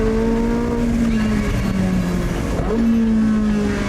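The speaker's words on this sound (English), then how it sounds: "that engine that I mentioned is not just a naturally aspirated V8" Porsche 918 Spyder's naturally aspirated race-car V8 roars loudly and continuously, its pitch holding, dipping briefly and then climbing again as the engine revs with the roof off.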